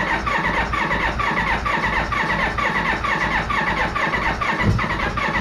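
A Kawasaki ZX-7R motorcycle engine with primed carburetors cranks in a rapid, steady, pulsing rhythm close up, with no clean start heard.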